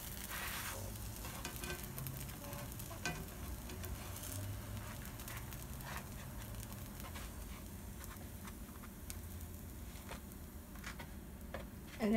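Cheese quesadilla frying in a pan while the cheese melts, a low steady sizzle with faint crackles and light scraping clicks throughout, close and alone with no talk.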